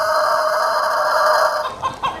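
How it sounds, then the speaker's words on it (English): A rooster crows in one long, loud, sustained call that holds steady for most of the clip, then breaks off into a few short, rougher notes at the end. "The sound of a cock is crow."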